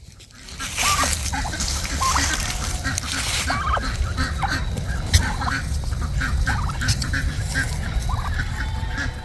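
A flock of farm turkeys calls and gobbles continuously as they are herded into a new paddock, overlapping honks and clucks close by, with a faint voice beneath.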